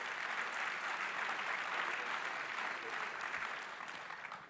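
An audience at a healthcare conference round table applauds in a dense, steady wash of clapping that holds for several seconds before gradually tapering off.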